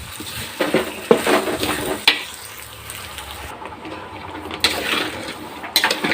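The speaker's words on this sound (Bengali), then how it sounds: "এবার ভালো করে আঁচটা কমিয়ে ভালো করে পাক করে নিতে হবে" A spoon scrapes and stirs sugar into a ginger, garlic and onion spice mix in a pan over low heat, with irregular clinks and soft sizzling that run steadily and close throughout.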